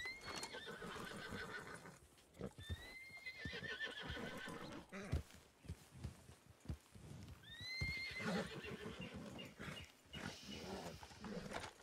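Horses in the Red Dead Redemption 2 Online game, with several loud whinnies rising over busy clip-clopping hooves and bursts of animal snorting throughout.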